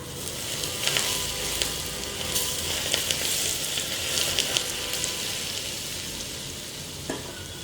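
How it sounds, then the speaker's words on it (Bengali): Boiling hot oil poured over chili powder and white sesame seeds, making a steady, bright sizzle that crackles on throughout with small pops, close and fairly loud, with no talking. "এখন এর মধ্যে আমার ফুটন্ত গরম তেল ঢেলে দিতে হবে।"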